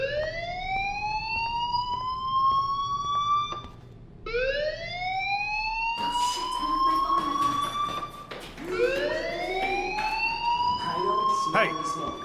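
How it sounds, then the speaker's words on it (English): A fire alarm rings in the Life is Strange video game, a loud rising siren-like wail that repeats in long sweeping cycles with a brief gap before it starts again. "do you hear that fire alarm?"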